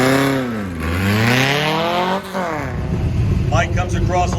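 A 1965 VW dune buggy with a 2,386 cc engine drag racing at a Goodguys event revs and roars past with a rising and falling engine note, while an announcer talks over it.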